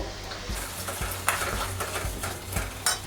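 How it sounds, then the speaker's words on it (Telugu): Ginger garlic paste frying in leftover deep-frying oil for an Andhra prawn pickle, a steady close sizzle with repeated spoon stirs and scrapes against the pan, no voices. "డీప్ ఫ్రై చేయగా మిగిలిన ఆయిల్లో ఈ కప్పు అల్లం వెల్లుల్లి పేస్ట్ని వేసి ఫ్రై చేయాలి."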